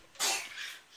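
A single sharp sneeze bursts out close by, a breathy blast that tails off quickly.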